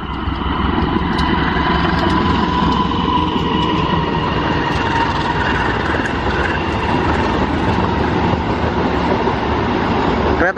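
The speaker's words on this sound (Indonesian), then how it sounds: "Ini dia kereta api Galunggung yang tadi telat." A Galunggung passenger train rumbles past close by in the rain, a loud continuous roar of wheels and rails with a faint high squeal, lasting the whole time.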